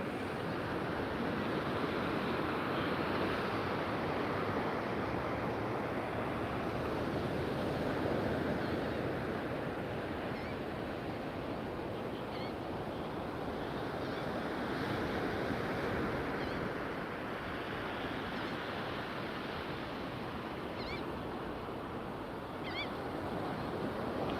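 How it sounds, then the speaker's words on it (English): Ocean surf washes in a steady, soft roar with gusts of wind over it; any birds are too faint to pick out. "I'm going to also let the ocean do the talking and the birds"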